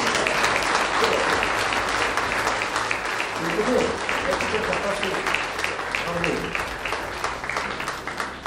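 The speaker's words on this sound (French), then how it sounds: "On peut l'applaudir." An audience at a New Year's greetings ceremony claps steadily, a dense round of applause with some voices mixed in, tapering slightly toward the end.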